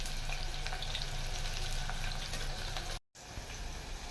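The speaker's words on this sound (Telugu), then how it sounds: "ఇగో నూనె అయితే వేడి అయ్యింది. ఇప్పుడు ఉల్లిగడ్డ వేసుకుంటున్నా దీంట్లో." Onions sizzle and fry steadily in hot oil for mutton keema, a close, continuous crackling hiss that cuts out for a moment and then resumes.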